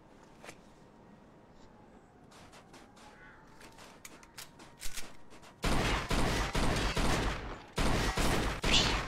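Gunfire in the video game Mafia 2: a few scattered shots, then from midway a loud, rapid burst of repeated gunshots with faint voices in the background.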